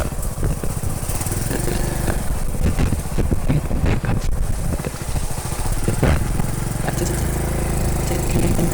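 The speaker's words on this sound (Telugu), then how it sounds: "బైక్ వెళ్ళింది ఆల్రెడీ" A motorcycle on a forest road near a village, its engine buzzing loud and close with a rough, sputtering, uneven throttle across the whole stretch.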